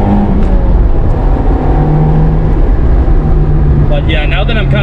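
A 1991 Nissan Pulsar GTi-R hatchback with a Silvia-sourced engine drones steadily while driving, a loud, continuous low hum heard from inside the car beneath a person talking.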